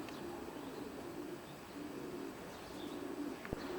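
Racing pigeons coo softly inside a young-bird loft, low murmuring calls over a steady background hush, with a brief sharp tap near the end.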